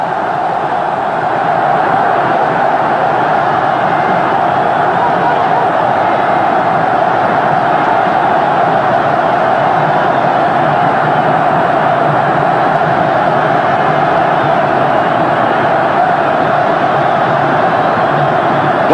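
A large Tunisian football crowd at an African Confederation Cup final fills the air with a steady, loud roar that holds evenly throughout with no breaks.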